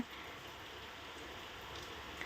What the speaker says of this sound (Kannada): ಈಗಲೂ ಮಳೆ ಬರ್ತಾನೇ ಇದೆ